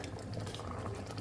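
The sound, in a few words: jaggery mixture boiling in a pot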